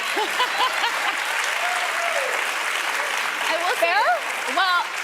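A studio audience claps at a Steve Harvey show in a continuous wash, while voices cheer and whoop over it with rising and falling calls.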